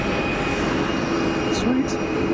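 A Piper PA28 light aircraft climbs out after takeoff at Geneva Airport, its engine a steady, loud broadband roar, with talk heard over it.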